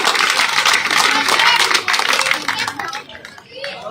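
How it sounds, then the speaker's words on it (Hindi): Applause from a crowd at a village election rally in Agwanpur, Ganaur, a dense burst of clapping that gradually thins out and fades, with voices murmuring underneath. "जोरदार तालियों से अभिनंदन और स्वागत"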